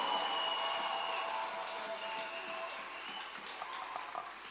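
Church congregation applauding and cheering for the one seated on the throne, a dense steady wash of clapping and voices that stays loud throughout, with a faint tonal hum beneath.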